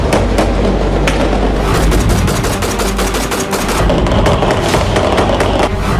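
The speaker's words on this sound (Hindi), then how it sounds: "पूरी रात काराकास की सड़कें गोलियां और धमाकों की आवाज से गूंजती रही" Dense, continuous crackle of rapid gunfire and explosions in the streets of Caracas at night, loud and sustained throughout with no pauses.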